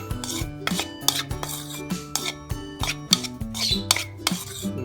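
Egg food for canaries and other birds is stirred in a bowl, giving repeated scraping and clinking strokes of a utensil against the dish in an uneven rhythm, close and clear, with no voice.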